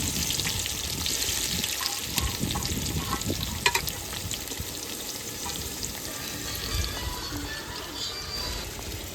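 Onion and tomato frying in mustard oil, a steady crackling sizzle with occasional scraping and clinking from stirring, close by, outdoors beside water with no voices.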